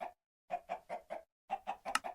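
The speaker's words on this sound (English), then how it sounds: "Chickens just getting slaughtered." Blocky chickens in a Minecraft modpack cluck in short, rhythmic bursts, two groups of four clucks separated by brief silences, close and moderately loud with no talk over them.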